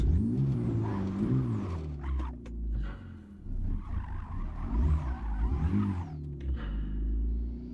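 A BMW 535i drifting in the racing game Assetto Corsa, its engine revving up and down in sweeping pitch arcs with tire squeal over a constant low rumble, played alone with no talk.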